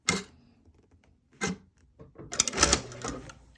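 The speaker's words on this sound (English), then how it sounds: "I'll start sewing again right where I stopped" A sewing machine stitching a gusset seam on pyjamas, short mechanical bursts near the mic separated by pauses, ending in a louder, faster run of stitching.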